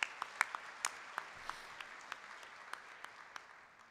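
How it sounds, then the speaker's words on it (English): A breakfast audience at the AMATYC 2013 gathering applauds the Test Development Committee with scattered, sharp claps that thin out and fade into sparse, isolated hand claps in a quiet room. "Let's have a round of applause for these hardworking people."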